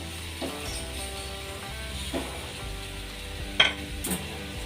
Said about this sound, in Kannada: ಇಷ್ಟು ಹಾಕಿ ಮಿಕ್ಸ್ ಮಾಡ್ಕೊಳ್ಳೋಣ